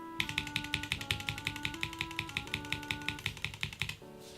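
A rapid series of sharp, clacky Akko CS Lavender keyswitch presses in a switch tester, roughly twenty in steady rhythm, loud and close with harsh bottom-out and no voices.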